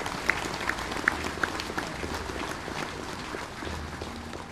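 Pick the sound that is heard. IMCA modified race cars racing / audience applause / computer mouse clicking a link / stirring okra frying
audience applause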